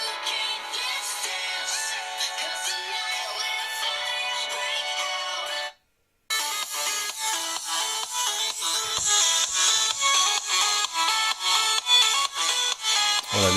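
A ringtone plays loudly through the speaker of a UMIDIGI One Pro phone, a bright repeating melodic pattern that stops briefly for a short gap and then resumes with punchier notes, with no talking over it.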